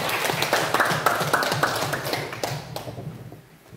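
Classroom applause from students, a steady patter of hand claps that tapers off after a few seconds, with faint voices underneath.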